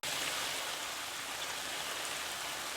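Water runs steadily through a Griot's portable high-flow water deionizer filter at about four gallons per minute. It makes a constant, fairly loud broadband hiss with no breaks and no voices.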